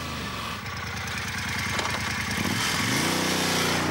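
A Moto Guzzi Griso 1200 8V motorcycle runs with a throbbing, uneven V-twin pulse, close and steady, with a brief rise in revs near the end.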